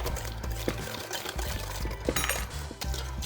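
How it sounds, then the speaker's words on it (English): Thick pumpkin roll cake batter pours from a bowl into a 9x13 baking pan, a soft continuous pouring and sloshing sound, close up, with a few light clinks of utensil on dish and no talking. "This is gonna be our cake mixture that we're gonna pour into a 9x13 to bake."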